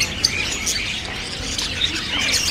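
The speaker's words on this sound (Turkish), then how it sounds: "muhabbet kuşlarının papağanların falan satıldığı bir yermiş burası." Dense chorus of budgerigars and parrots chirping and tweeting at a pet bird market in Qatar, bright overlapping calls at close range with steady shrill busy chatter throughout.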